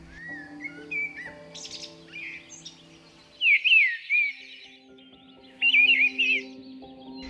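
A blackbird sings clear whistled phrases, with two louder, more complex bursts separated by short pauses. The setting is otherwise quiet.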